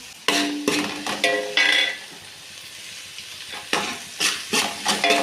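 Onions and curry leaves sauté in hot oil, a close sizzle broken by repeated bursts of stirring and spatula scrapes against the pan, loud and rhythmic, with a quieter stretch in the middle.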